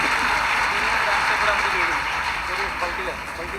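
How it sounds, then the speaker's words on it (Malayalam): Audience applause following a speech at an MLA excellence event, a steady dense wash of clapping that holds at an even level throughout and eases off slightly near the end, with faint voices underneath. "നിങ്ങളൊരു നല്ലൊരു കയ്യടിയോടെ എനിക്കൊരു താങ്ക് യു"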